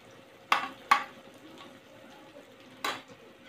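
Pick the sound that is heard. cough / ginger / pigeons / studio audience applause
ginger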